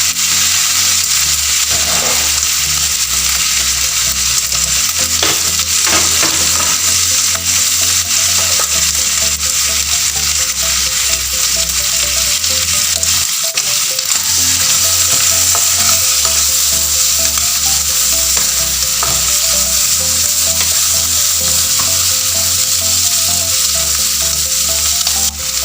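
Chopped tomato fries and sizzles steadily in a hot pan with a constant loud crackle, with occasional scrapes and clinks of a spoon stirring, and no talking.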